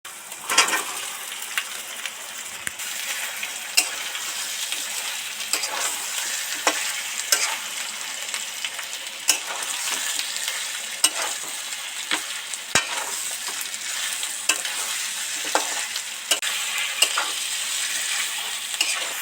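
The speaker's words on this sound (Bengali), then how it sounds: "মশলাটা ভাজা হয়েই গেছে এবার ভাজা সবজিটা এর মধ্যে দিয়ে দেবো" Pointed gourd pieces fry in spices in a pan with a steady close sizzle, broken by frequent sharp clicks and scrapes from stirring, and no voices over it.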